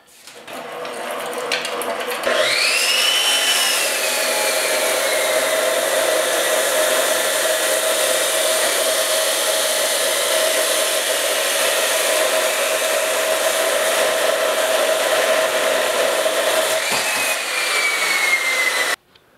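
A power tool cuts steel collar pieces for a heavy-duty outdoor cooking grill, whirring up to speed and holding a loud, steady, high-pitched whine for about fifteen seconds before spinning down.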